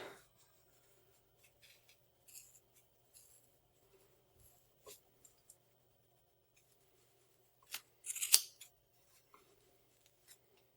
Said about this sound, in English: it's very thick, so I'm just going to cut different layers on their own